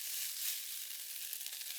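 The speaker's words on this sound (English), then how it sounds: "you'll probably want to brown this meat in 2 or 3 separate batches" Ground beef browning in a pan for Korean-style fried rice, a steady hissing sizzle with faint crackle, constant and close without speech.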